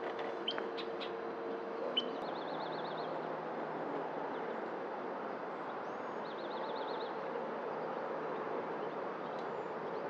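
Faint bird chirps and short trilling calls, distant and sparse, over a steady low background hum, at the Bear Creek Greenway in Ashland.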